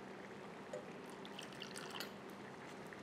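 Lukewarm water poured into a couple of spoons of gram flour to make a paste for a Vidarbha-style spinach dish, a soft, steady trickle running for about three seconds, close by and quiet, with no talking.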